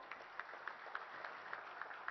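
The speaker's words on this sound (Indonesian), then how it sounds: "Bapak Ibu mohon kita berikan tepuk tangan." An audience applauds at a National Cooperative Day ceremony, steady scattered clapping with a few sharper individual claps standing out, heard from some distance and fairly soft.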